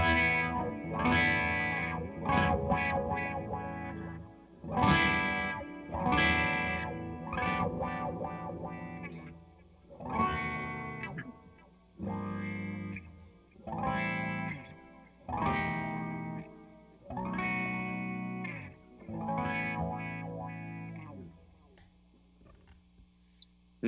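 An electric guitar is played through a wah pedal in a series of distorted, effected phrases, each chord swelling and fading with short gaps between, ending in near silence.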